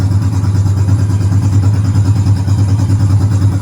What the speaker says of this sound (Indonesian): Suara mesin jadi jauh lebih halus dengan oli yang baru.